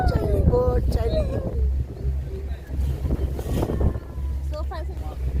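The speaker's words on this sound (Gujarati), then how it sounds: "ચાલી બોટ ચાલી." A boat moving across a lake at Kankroli, Rajasthan, gives a steady low rumble that runs through the whole ride, with wind buffeting the microphone and people talking close by over it.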